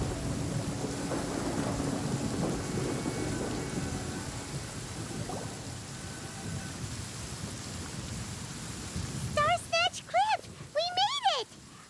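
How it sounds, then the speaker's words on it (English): Heavy desert rain pours in a steady, dense hiss with low thunder rumbling underneath in Genshin Impact, ending with a few brief, warbling voice-like calls over the downpour. "it does actually rain in the desert on occasion. And when it does, it's always a lot heavier than this"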